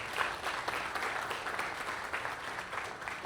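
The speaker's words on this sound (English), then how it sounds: "I would just want to give yourself a round of applause" An audience gives a round of applause at a success-story event in Trinidad, with steady, dense clapping that carries on evenly for the whole stretch at moderate level.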